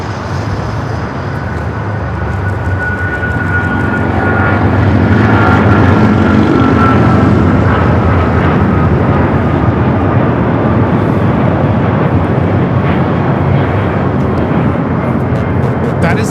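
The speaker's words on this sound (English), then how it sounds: "That is American Airlines Flight 2431 taking off to Miami, Florida on the 777-200ER." An American Airlines Boeing 777-200ER jet takes off from Los Angeles airport. Its roar swells into a loud, sustained rush that holds to the end, with people talking over it.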